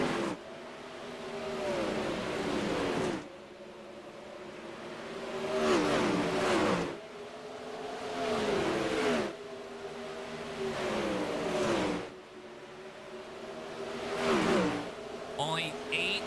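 360 sprint cars racing on the Bristol dirt track during a heat race, engines roaring past in repeated loud surges that swell and fade as the pack laps, with a commentator talking over the noise.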